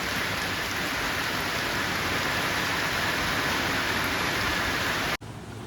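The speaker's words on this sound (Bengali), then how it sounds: "বৃষ্টির সঙ্গে আজকে হাওয়াটাও ছেড়েছে, আর হাওয়া ছাড়লে ভীষণ ভয় করে।" Steady heavy rain with wind pours continuously, loud and close, a dense broadband wash with no talk, cutting off abruptly near the end.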